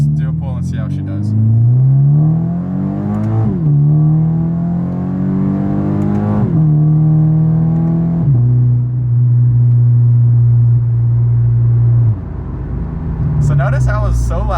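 Scion FR-S running a flame-spitting tune pulls hard under full throttle, its engine note climbing in rising sweeps broken by three quick gear shifts, loud and close from inside the car, then settling into a steady drone before easing off.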